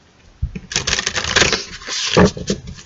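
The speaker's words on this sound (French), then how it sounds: "Je vais vous tirer une carte des voies de la guérison." A tarot card is drawn from a deck with a close, rustling shuffle and scrape of cards lasting a couple of seconds, papery and steady, with no talk over it.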